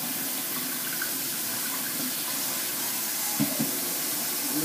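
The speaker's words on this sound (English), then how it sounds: "And these are kales that I'm rinsing off." Kale leaves are rinsed under a steady stream of running tap water into a bowl, a constant close hiss and splash with a couple of faint knocks near the end.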